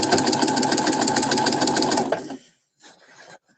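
Sewing machine back stitching over seams, a steady fast mechanical whir for about two seconds that stops abruptly, followed by brief softer handling clatter.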